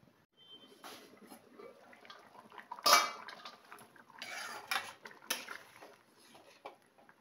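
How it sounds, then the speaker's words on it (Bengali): Metal clatter in a kitchen as a lid goes onto a cooking pot for fish curry with vegetables, with several sharp clanks and scrapes, the loudest near the middle, and quieter handling noises between them. "এবার ঢাকা দিয়ে এটা সেদ্ধ হওয়া পর্যন্ত ঢাকা দিয়ে রান্না করব"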